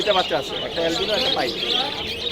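Dense, continuous chirping and twittering from many small caged finches, Java sparrows and budgerigars at Bangladesh's largest bird market in Mirpur-1, with voices talking over the birdsong throughout.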